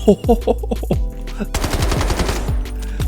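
M7 Battle Rifle fired in the Delta Force video game: a few quick single shots, then a long loud automatic burst in rapid rhythm with metallic clatter, close up, with a voice briefly over the opening shots.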